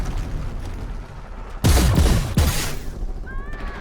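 Two loud, sharp bursts of cannon gunfire in the game Iron Harvest crack out back to back against a steady game soundscape, followed by a thin whistling tone.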